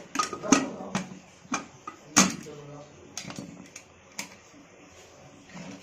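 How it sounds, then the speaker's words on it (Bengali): Someone fastens the lid of a pressure cooker holding potatoes and water while making sweet potato pithe puli. It gives a series of sharp, irregular metallic clanks and clicks, close by, with a quieter clatter between them. "এবার ঢাকনাটা আটকে দিচ্ছে"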